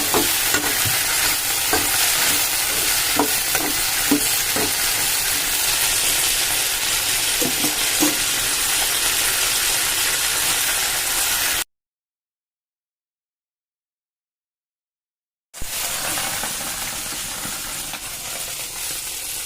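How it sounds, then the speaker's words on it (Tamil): Garlic sizzles and fries in hot oil for a pickle, a loud, steady hiss with occasional stirring clicks, cut off by a few seconds of silence before the sizzling resumes just as strongly. "பூண்டு, மூணு போட்டு நல்லா வதக்கணும்."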